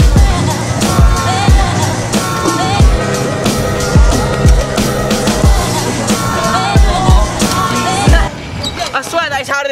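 A scooter circles a pump track, its wheels producing a rhythmic series of thumping low bumps as it rolls over the humps, with a continuous rolling roar underneath, loud and close, and voices talking over it.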